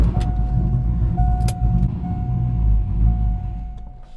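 A Corvette with a loud cammed engine idles with a lumpy, uneven rumble while backing slowly up onto ramps, deep and close, with a few brief clicks and knocks and a thin steady whine over it.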